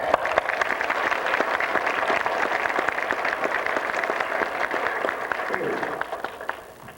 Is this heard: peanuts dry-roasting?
no